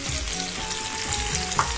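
Potato and broad bean curry with onions fries in a pan, giving a loud continuous sizzle with faint stirring clinks, close up and without speech.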